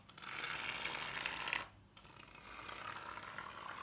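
Shaving foam sprays from an aerosol can in two hissing bursts, a long one and then a short pause before a second, softer one, quiet and close.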